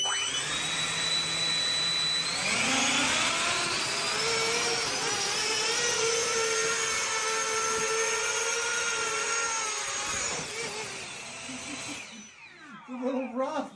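A drone lifting a 4-pound 6-ounce book payload gives a loud, sustained whine of buzzing rotors that rises in pitch as it strains upward, then cuts off near the end.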